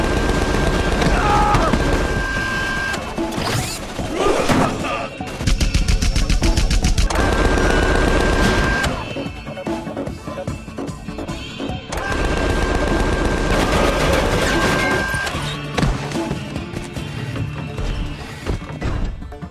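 Robot gunfire in the Tales from the Borderlands video game, loud rapid bursts of automatic shooting with crashing impacts, several long volleys separated by short pauses, with a voice speaking briefly between them.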